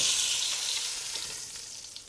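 Dinosaur beef ribs sizzling and searing in a hot pan before braising, a steady bright hiss that fades slightly, close and alone.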